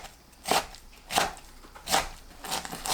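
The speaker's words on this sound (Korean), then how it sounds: "뭉친 곳 대충 풀고 1cm 길이로 썰어주세요" A knife chops dumpling filling ingredients into 1cm lengths on a cutting board, four close, evenly spaced crisp strikes with quiet gaps between them and no talking.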